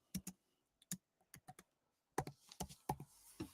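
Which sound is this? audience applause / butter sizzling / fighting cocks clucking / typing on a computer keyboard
typing on a computer keyboard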